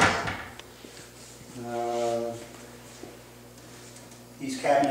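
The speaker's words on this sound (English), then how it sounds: "the drawer has to be all the way in before the doors close" A cabinet drawer in a proscenium theatre slides shut with a brief rolling glide and a soft knock, followed by a steady hum and a louder bump at the end; faint talk around it.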